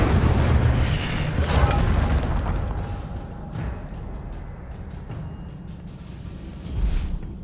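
An Incendio fire spell in the Hogwarts Legacy video game lets off a loud, deep booming blast right at the start that rumbles and fades, and a smaller burst comes near the end.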